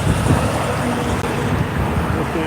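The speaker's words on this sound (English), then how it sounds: "We've got big trucks coming down the road" Continuous roadway rumble of big trucks rolling past nearby, a dense, steady drone with no clear breaks.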